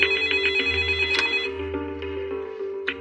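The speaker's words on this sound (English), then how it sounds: "and the phone rings." A telephone rings in a quiet room late at night, a close electronic ring repeating in short bursts over a low hum, with no voices.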